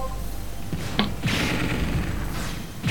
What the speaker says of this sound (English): See, there were multiple explosions there.